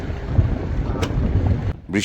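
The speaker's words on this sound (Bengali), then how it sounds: "বৃষ্টি হচ্ছে বেদম বৃষ্টি এই বৃষ্টি চলবে মনে হয়" Heavy rain and wind lash a coastal forest area during a storm, a dense, steady roar of noise that fills the whole clip, broken near the end by a brief voice-like sound.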